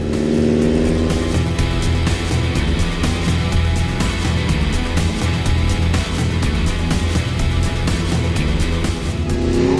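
An ATV quad bike runs at full throttle through snow, its engine roaring loud and steady up close for the whole stretch, with a continuous rattle over it.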